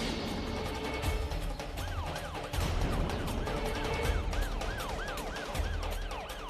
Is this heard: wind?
no